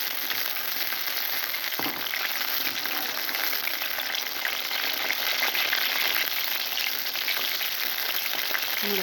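Eggplant frying in hot oil for dalcha gives a loud, steady, close sizzle that runs without a break, with a single faint knock early on.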